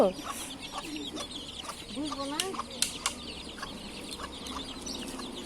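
Chickens cluck and squawk nearby in short, irregular calls, with a few brief sharper cries and faint voices in the background.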